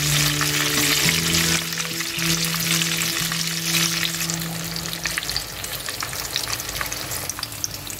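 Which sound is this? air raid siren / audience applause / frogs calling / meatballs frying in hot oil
meatballs frying in hot oil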